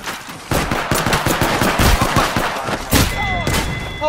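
Rapid, loud automatic gunfire in the battle royale video game Apex Legends: dense repeated bursts fire without pause across the whole stretch, close and dominant.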